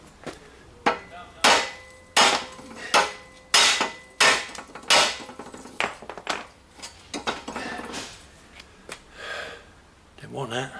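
A series of sharp, heavy hammer blows lands close by, strong at first then quickening and softening, with breathy gasps in between and a voice near the end.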